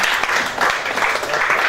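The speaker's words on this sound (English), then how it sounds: "Another round of applause for Theresa." Applause from an audience at a speech event: steady crowd clapping fills the whole moment, loud and dense, with no talking over it.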